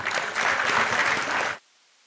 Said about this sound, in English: A big round of applause for Dean Dr. Deependra Sharma